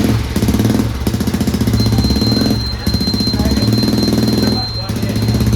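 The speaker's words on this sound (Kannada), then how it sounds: "ತುಂಬ ಎಕ್ಸೈಟ್ ಆಗಿನಿ ಎಕ್ಸಾಸ್ಟ್ ಸೌಂಡ್ ಕೇಳಿಸ್ಕೊಳ್ಳೋಕ್ಕೆ." A Hero Xpulse 4v motorcycle with a Motowing full system exhaust runs close by with a fast, even thumping beat that dips briefly twice, as if easing off the throttle, then picks up again.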